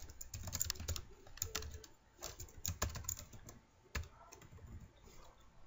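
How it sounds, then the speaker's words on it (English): Code is typed on a computer keyboard in quick, uneven clusters of close, soft key clicks and taps, with brief pauses between runs and a quiet room behind. "So we're going to type in message box dot show"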